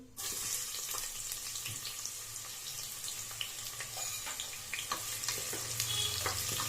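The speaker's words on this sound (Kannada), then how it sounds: "ಈರುಳ್ಳಿ ಸಾಫ್ಟ್ ಆಗೋವರೆಗೂ ಫ್ರೈ ಮಾಡ್ಕೊಳ್ಳಿ" Medium onion slices fry in a pan for a fenugreek-leaf pulao, giving a continuous dense sizzle with occasional faint stirring clicks, close and steady, with no talking.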